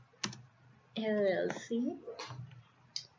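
Clicky keystrokes on a computer keyboard while filling in an online driver's job application, a few sparse taps heard close up between and beneath a man's speech.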